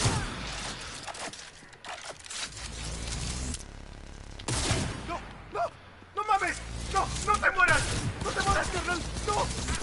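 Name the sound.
Breakthrough sniper rifle shots in video game Cyberpunk 2077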